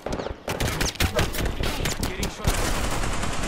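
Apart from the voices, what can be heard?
gunfire in a video game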